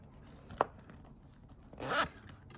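Two quick, quiet zipper pulls on a vintage Chanel bag, a short sharp one and then a longer rasping drag, in an otherwise hushed setting.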